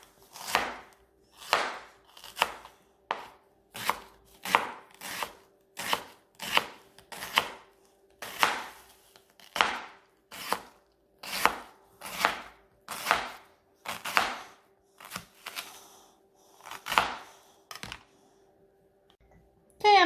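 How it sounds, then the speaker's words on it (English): A knife slices through a red onion on a cutting board in about nineteen crisp, evenly spaced chops, close and clear against a quiet background. "I'm done just slicing the onion"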